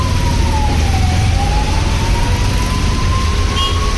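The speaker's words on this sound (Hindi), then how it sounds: "तेज तेज बारिश पड़ रही है," Heavy rain pours down on a busy street with heavy traffic, a loud, steady hiss close by that never lets up, with a faint wavering siren-like tone running through it.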